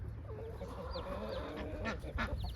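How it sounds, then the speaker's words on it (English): Baby chicks and chickens cluck and peep in a barn area, a busy mix of soft clucks and high chirps heard close over a low background rumble. "Look, there's some baby chicks right there."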